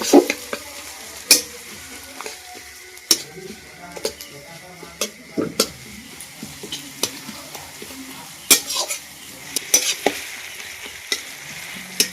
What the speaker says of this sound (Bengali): আগে তেলিয়ে ভেজে নেব, ভালো করে নাড়িয়ে নাড়িয়ে ভেজে নেব।